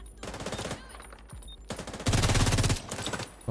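Gunfire in the video game The Division 2: rapid automatic bursts rattle close and loud, with a sustained heavy stretch of fire in the middle and brief pauses between volleys.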